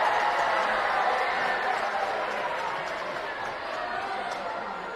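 A packed crowd of spectators fills the bleachers at a regional championship volleyball game, a steady, dense roar of murmuring voices and cheering that fades slightly in loudness and stays constant throughout.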